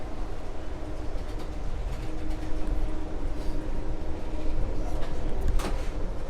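An Amtrak passenger train rolls along the rails, a steady rumbling interior ride noise with faint rhythmic clacks and a brief squeal, continuous throughout.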